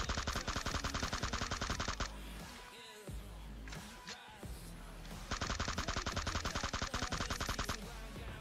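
Rapid automatic gunfire from an enemy fight in BGMI, Battlegrounds Mobile India, with loud sustained bursts of rattling shots at the start and again near the end, separated by a quieter stretch of scattered impacts and movement.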